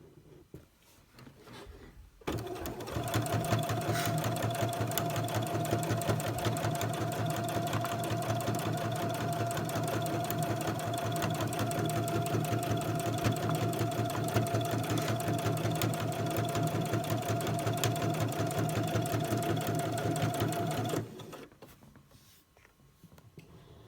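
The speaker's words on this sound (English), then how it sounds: "I'll probably speed this up a little bit so you don't have to watch me sewing around this" A sewing machine runs steadily for about twenty seconds, stitching fabric around a marble maze, with a fast even needle clatter and a constant motor hum that starts and stops abruptly.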